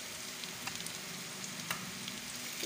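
Finely chopped onion frying in a pan alongside lightly fried garlic, a soft continuous sizzle with faint crackles and occasional pops, no voices.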